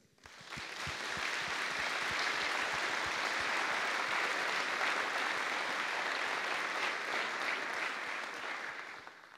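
Sustained applause from a sizable crowd at a Formula Student race car rollout presentation, dense and even, holding steady for several seconds before tapering off at the end.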